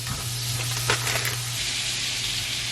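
Butter melting in a hot pan for cooking, a steady soft sizzle and hiss throughout with a low hum beneath and a brief clink of a utensil midway.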